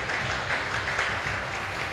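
Brief audience applause after a performance: a steady wash of many hands clapping at moderate level, continuous and unbroken for two seconds.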